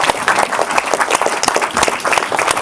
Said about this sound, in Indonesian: Aplaus dong.